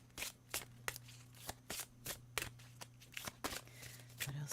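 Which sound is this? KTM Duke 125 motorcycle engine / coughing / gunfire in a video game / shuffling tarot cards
shuffling tarot cards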